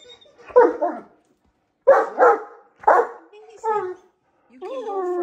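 Great Danes bark in a few deep, loud woofs close by, followed by whiny, higher yelping vocalizations toward the end.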